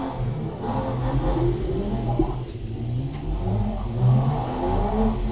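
A race car engine in the DR!FT video game revs at the race start, with a steady mid-pitched drone that swells and rises near the end, heard alone without talk.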